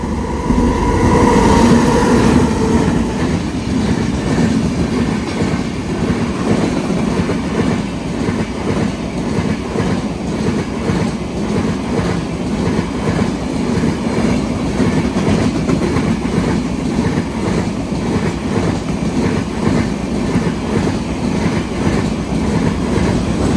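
Mangala Express passenger train passing at Kalamassery station, a loud sustained rumble with rhythmic clickety-clack of wheels on rails and a brief higher tone at the start, continuing close by throughout with no talk.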